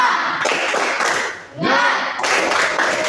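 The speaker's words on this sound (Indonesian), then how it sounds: "Ayo, tepuk semangat dulu." A school class doing a rhythmic spirit clap, loud hands clapping in quick bursts with a short pause in the middle before the clapping resumes, close and lively.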